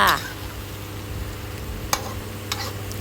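Tofu stir-fries with celery and minced pork in a hot pan, giving a soft, steady sizzle, with a few sharp spatula clinks and scrapes as the food is tossed.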